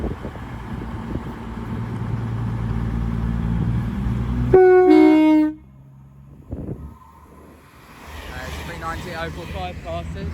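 A Class 350 electric train at Watford Junction rumbles past the platform at speed, then a loud two-tone horn blares briefly; the rumble cuts off and station noise and faint voices follow.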